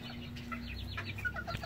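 A hen in a cage clucks in short, quick murmuring notes close by over a steady background hum, the burst lasting under two seconds.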